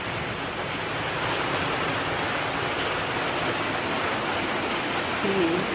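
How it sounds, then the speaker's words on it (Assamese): Steady hiss of heavy rain pours down continuously, a dense even wash of sound at moderate loudness with no talking. "এতিয়া কটি ফটা বৰষুণ দি আছে"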